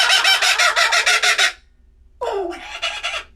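A laughing kookaburra gives its loud, close call, a rapid rhythmic burst of cackling notes that stops, then after a short silence a rising-falling hoot leads into more chattering laughter.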